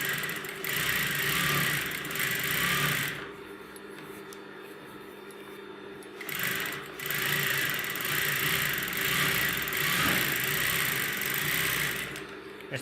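A sewing machine stitches the top seam of a kanchli blouse in two loud whirring bursts. It stops for a few seconds between them, and the motor sits close to the listener.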